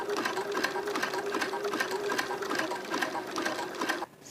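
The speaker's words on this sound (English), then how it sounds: "So we just keep sewing around." A sewing machine runs a continuous zigzag stitch, joining honey bun fabric strips with cord into a hat, a steady fast mechanical whirring hum that stops abruptly near the end, with a voice talking over it.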